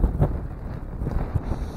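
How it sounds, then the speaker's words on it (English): Strong wind buffets the microphone outdoors on a frozen lake during ice fishing, a steady low rumble with gusty surges throughout and no talking. "So it's windy as heck out."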